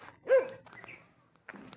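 A single dog bark rings out, followed by fainter yelps and short barks at a distance.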